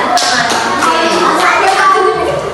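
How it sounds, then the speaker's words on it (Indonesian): Classroom applause during a teaching simulation, many hands clapping in a dense, continuous patter at close range, steady and loud throughout, with faint children's voices mixed in. "tepuk tangan dulu"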